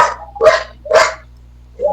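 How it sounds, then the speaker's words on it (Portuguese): A dog barks three times in quick succession, loud and close, with a short fourth yelp starting at the end, over a quiet indoor hum and no talking. "Desculpa esse cachorro aqui, viu, gente?"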